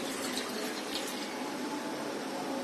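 One cup of water poured into a pan for making a semolina dough, a steady broadband splash and trickle running evenly through the whole moment, close and fairly quiet with no talking.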